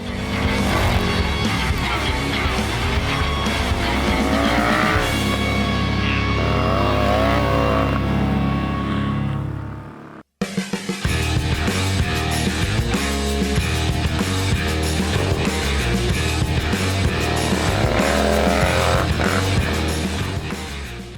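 Harley-Davidson motorcycles built for flat track racing run at full throttle, a loud continuous engine roar with rising and falling revs, briefly cutting out before resuming.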